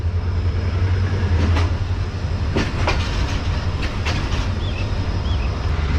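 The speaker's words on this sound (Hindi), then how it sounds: "तो ये ट्रेन हमारी मेन प्लेटफॉर्म पर अप्रोच बना रही है खानेवाल जंक्शन के।" Pak Business Express train approaching the main platform at Khanewal Junction, a steady loud low rumble with faint clicks and clacks over about six seconds.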